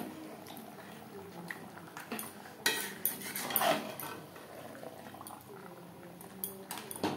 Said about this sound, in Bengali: মাছের মাথা আলু মশলা ও চালের সাথে বেশ ভালো করে মিক্স করে দেব